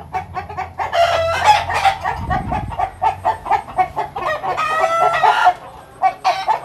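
Roosters kept together at a home in Tay Ninh, Vietnam, cluck in quick, close bursts and break into repeated loud crows, and the calls overlap and carry on throughout.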